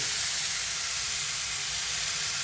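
Kingfish frying in a pan, a dense, continuous sizzle and hiss of hot oil, loud and close, steady throughout with no talking.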